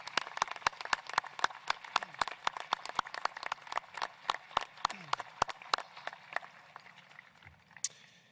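Scattered hand claps ring out from a graduation ceremony audience at Gibbs High, a sparse, uneven round of applause that is fairly close and gradually thins to a few isolated claps before fading.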